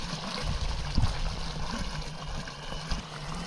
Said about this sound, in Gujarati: જો આપણે અહીંયા આટલું પાણી આવે છે